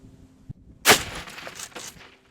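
A Remington 870 shotgun fires a single Winchester slug outdoors: one loud, sharp blast follows a small click, then trails off in a rolling echo over about a second.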